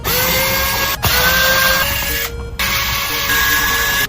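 Back cover screws of a Trimui Brick Pro handheld are driven out with a small powered screwdriver, giving a loud, close, high whirring whine in several bursts separated by brief pauses.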